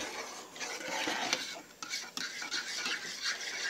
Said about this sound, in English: Okay, give it a good whisk.